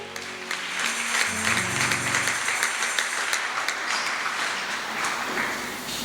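Applause from a church congregation carries on at a steady, loud level for several seconds, a dense wash of many clapping hands, with some music or voices underneath at the start.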